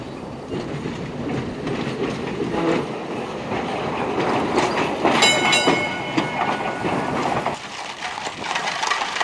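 A tram runs along the tramway at Beamish Open Air Museum, its wheels clattering steadily and close by, with a brief high metallic squeal partway through.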